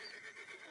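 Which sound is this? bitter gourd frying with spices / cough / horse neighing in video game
horse neighing in video game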